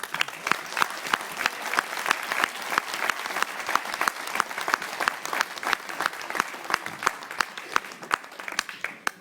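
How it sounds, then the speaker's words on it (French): An audience at a French regional election political rally applauds steadily, many hands clapping in a dense, continuous patter with sharp individual claps standing out, loud and sustained throughout. "Oui, nous pouvons applaudir Julie"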